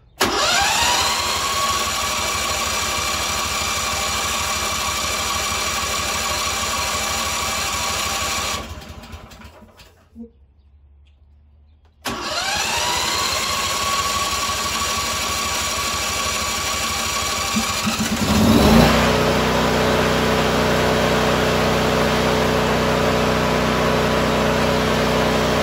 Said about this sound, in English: So let's go ahead and start her up.